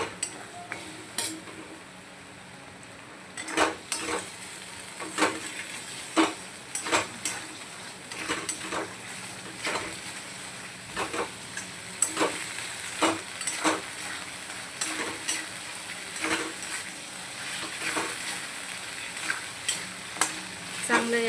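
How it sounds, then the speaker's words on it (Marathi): Mutton paya pieces sautéed in masala in a pan, with repeated scraping stirs from a spoon over a steady sizzle, close and moderately loud, no talking. "पीसला मसाल्यामध्ये आपल्याला परतून घ्यायचे"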